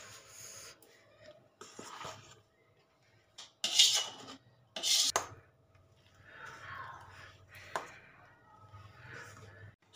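Brinjal paratha filling mixed in a bowl with a spoon, giving sparse clinks and a few short scraping bursts against quiet background, close and intermittent.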